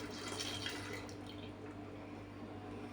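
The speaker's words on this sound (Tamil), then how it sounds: "இப்போ நம்ம இதை பால் சேர்த்துக்கலாம்" Milk poured into a pot of payasam, a South Indian sweet milk pudding, making a soft steady liquid stream and faint dripping over a low background hum, with no talking.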